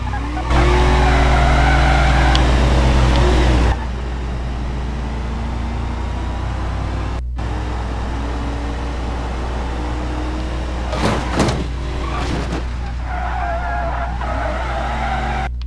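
Ford Crown Victoria driven hard in BeamNG.Drive rough demolition, a loud engine roar that drops abruptly after a few seconds, then continuous tire skidding and squealing with a sharp cut and a cluster of impacts near the end.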